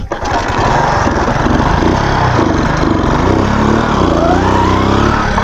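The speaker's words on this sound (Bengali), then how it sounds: "Bike start, okay." A Kawasaki motorcycle that had run out of fuel is started and settles straight into a loud, steady idle, its engine hum continuous and close with no voices over it.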